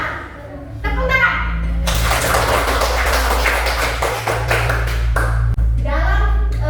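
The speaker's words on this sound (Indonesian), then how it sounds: "Tepuk tangan." A group of children in a classroom claps hands in a bright, continuous burst lasting several seconds, with voices talking before and after and a low hum underneath.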